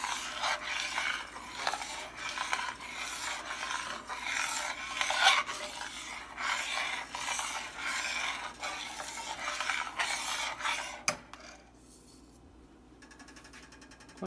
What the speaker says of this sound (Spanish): No dejen de batir porque la leche se pega.